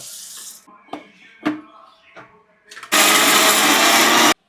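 Mixer grinder grinding pineapple pachadi paste, preceded by a few clicks and knocks of handling, then a loud, steady close-up whirring roar for about a second and a half before cutting off abruptly.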